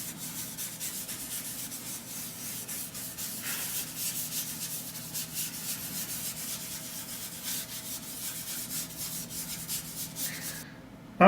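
Charcoal being rubbed and blended smoothly across paper for a sky in a mountain landscape, a steady soft continuous scrubbing that runs almost without pause and stops near the end.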